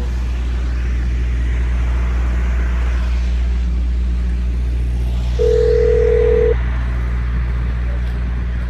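A single steady phone tone, about a second long, rings out in a car during a call just before the voicemail system answers, heard over a constant low road rumble.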